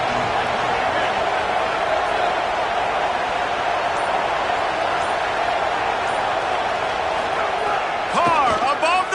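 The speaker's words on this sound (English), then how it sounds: "This crowd bringing an ear-splitting welcome to their visitors." A packed stadium crowd roaring at a Tennessee vs Notre Dame college football game, a continuous loud wash of noise that swells slightly near the end, with a broadcaster's voice faintly under it.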